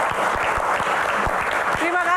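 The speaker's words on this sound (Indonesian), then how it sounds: "Tepuk tangan." Audience at a film Q&A session clapping, a steady patter of hands with a few louder individual claps standing out, a voice briefly audible near the end.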